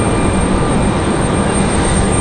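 Small training airplanes flying near Raleigh-Durham (RDU) airport, a steady, loud engine drone and rushing roar held without change throughout.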